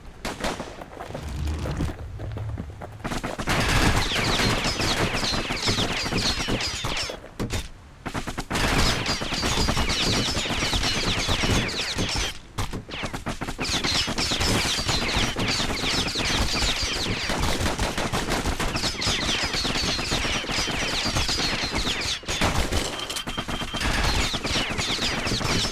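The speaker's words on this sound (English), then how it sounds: "I forgot about the Doc Holliday pistols" Doc Holliday pistols fire in the video game Bastion as a dense, continuous barrage of rapid shots, loud and sustained with only a few brief breaks.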